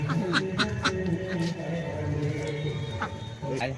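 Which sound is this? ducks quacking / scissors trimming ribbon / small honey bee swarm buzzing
ducks quacking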